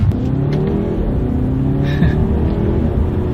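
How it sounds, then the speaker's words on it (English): A 2017 BMW 530i in Sport mode accelerates hard using paddle shifters, its engine droning loud and steady with rising tones and a quick shift near the middle. "I'm going to test out the paddle shifters, see how quickly they react here for me."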